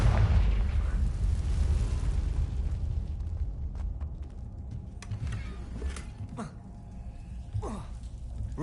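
A Confringo fire spell blasts in Hogwarts Legacy on PS5 with a deep, loud booming rumble that is strongest at the start and slowly fades, while scattered crackles and pops sound over the lingering roar.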